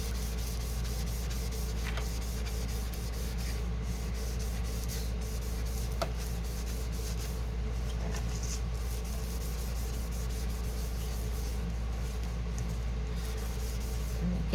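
A steady back-and-forth rubbing of eyeshadow across a paper background, a soft continuous scratchy swish under a constant low hum, with no talk.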